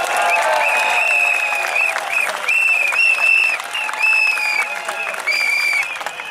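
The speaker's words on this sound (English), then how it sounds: "Do you think my girl deserves a big round of applause from all of you?" Applause and cheering from a crowd at a Workers' Party general election rally in Singapore, a loud, continuous roar of clapping with whistles and shouts throughout.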